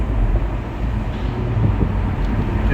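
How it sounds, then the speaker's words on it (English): A 2015 Jaguar F-Type R roadster in dynamic mode with its sports exhaust open, heard as a loud steady roar of the engine and exhaust under heavy wind buffeting, with no one talking. "still in dynamic mode with sports exhaust turned on"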